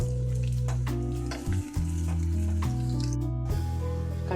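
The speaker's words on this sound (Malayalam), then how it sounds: "ആ മുളക് കൂടിട്ട് തളിച്ചിട്ട് ഇതിലേക്ക് ഒഴിച്ചെടുക്കാം" Green chili tempering sizzles in hot oil for carrot pachadi, a dense and continuous frying crackle close to the pan, with a brief clatter midway and no voices.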